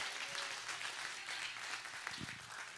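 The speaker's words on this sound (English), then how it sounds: "we need to give the Lord a radical clap offering this morning" Steady applause from a crowd, faint and distant, sustained throughout without voices.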